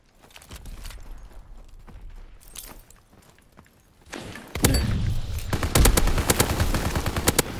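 Gunfire in Call of Duty: WWII: scattered single shots and footsteps at first, then loud, rapid bursts of automatic fire crackling close up in the second half.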